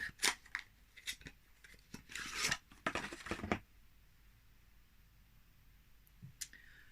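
Cardboard and paper packaging on a Nox perfume box crinkle and rustle close up in a few quick bursts, then a short snap and faint clicks follow in a quiet room.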